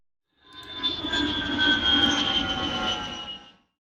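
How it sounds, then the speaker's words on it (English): A jet engine roars with a piercing high whine over a broad rushing noise. It swells in, holds loud for about three seconds, then fades out. "Jet engine."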